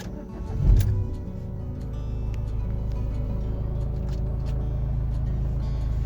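A car driving on the road, a steady low engine and tyre rumble heard from inside the cabin, with a brief louder bump near the start and no talk.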